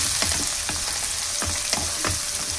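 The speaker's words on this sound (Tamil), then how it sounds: "வெங்காயம் நல்லா பொன்வரவில் வர வரைக்கும் நல்லா வதக்கி விட்டுடுவோம்." Onions sautéing in a hot pan with curry leaves for a bean curry: a steady broadband sizzle with several sharp stirring scrapes at irregular intervals, close and fairly loud, with no talking.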